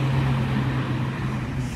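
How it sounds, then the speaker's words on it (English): Road traffic passing near a walking route, a steady low engine rumble with a constant hum, continuous and moderately loud with no talk. "Traffic, always traffic."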